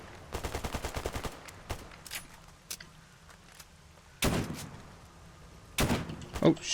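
Gunfire in the video game S.T.A.L.K.E.R. Anomaly: a rapid burst of automatic shots, scattered single shots, then two loud heavier blasts, with brief quiet gaps between.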